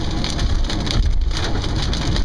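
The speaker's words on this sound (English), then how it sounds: "It is pouring rain, thunder, lightning." Heavy rain pours steadily, a dense continuous hiss of drops pattering on surfaces, loud and close throughout.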